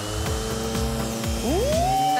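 A power sander runs at a high setting with a steady, loud motor whir and a regular pulsing rhythm. Partway through, its pitch climbs in a rising whine as the speed is turned up.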